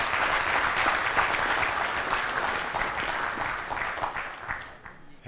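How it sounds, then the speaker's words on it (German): A crowd at an AfD Thüringen state party convention applauds vigorously, producing thick, continuous clapping that holds steady for several seconds before cutting off abruptly. "haben sich nochmal einen ganz kräftigen Applaus verdient"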